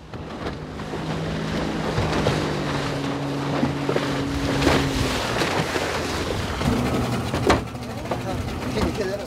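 At sea off a Korean island, a boat's engine drones as it approaches while towing a broken-down boat, with strong wind buffeting the microphone and waves splashing.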